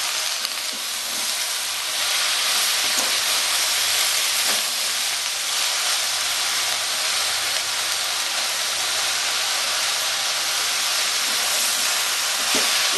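Cabbage cooking in its own released water under a lid in a pan gives off a loud, steady hiss of steam and sizzle, continuous and close, with faint low clatter beneath.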